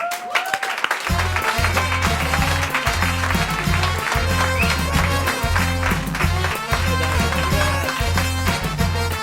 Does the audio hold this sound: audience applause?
yes